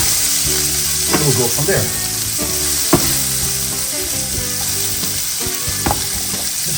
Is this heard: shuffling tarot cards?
no